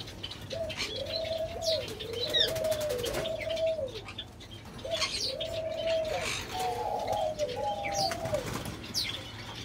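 White zebra doves, a breeding pair and their young, cooing in repeated soft rising-falling calls of several notes each, close by, with faint chirps and wing flutters around them.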